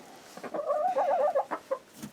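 A chicken in a large winter coop gives a brief warbling cluck, close and fairly quiet, a short rising-and-falling call followed by a few soft clucks.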